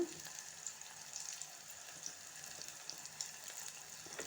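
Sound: onions frying and being stirred in a pan

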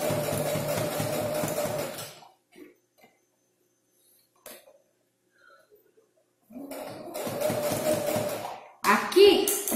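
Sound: sewing machine stitching bias binding along a curve

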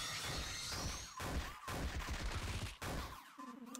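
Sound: gunshot attack in the video game Lisa RPG

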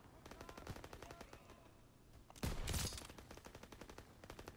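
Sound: gunfire in Call of Duty WW2 video game

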